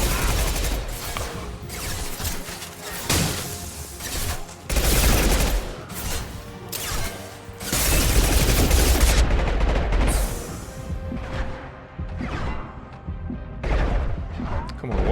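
M23 Katana shotgun and other gunfire in Mass Effect 2 combat, repeated heavy blasts and rattling shots layered with game noise, a commentator's voice occasionally mixed in.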